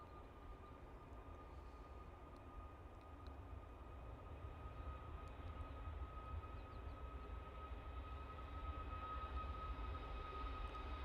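A TUI airliner at Manchester Airport, a distant low engine rumble that slowly swells louder over several seconds, with a faint steady whine above it and no talk.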